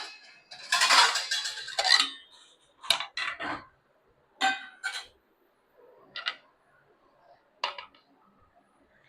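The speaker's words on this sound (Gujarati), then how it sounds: "દહીંનું રાયતું કરવા માટે કાકડી છે, ટમેટું છે અને લીલું મરચું આ છે ને આપણે કટ કરીને લેવાનું છે" Cucumber, tomato and green chili cut for curd raita, with a burst of scraping and clattering followed by sparse, irregular knife taps and clinks against the board and dishes, close up and separated by quiet gaps.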